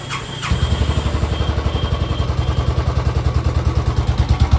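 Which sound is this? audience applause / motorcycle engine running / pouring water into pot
motorcycle engine running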